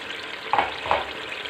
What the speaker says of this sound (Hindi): बस 1-8 मिनट में भूनूंगी इसको गरम मसाले के साथ